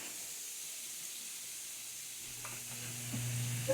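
Thin sliced steak meat frying in a pan, a soft steady sizzle and hiss close by, fairly quiet, with a few faint clinks near the end.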